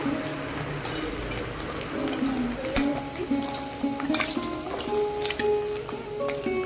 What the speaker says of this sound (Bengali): এতে আলুগুলো ভেজে নেবো